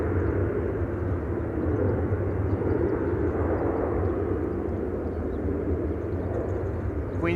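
An Embraer 175 airliner takes off at Amsterdam Schiphol, a distant, steady engine rumble droning evenly across the whole stretch.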